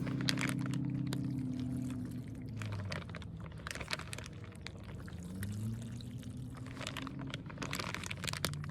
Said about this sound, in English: Squeeze out some of the water until it